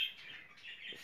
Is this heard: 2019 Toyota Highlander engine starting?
no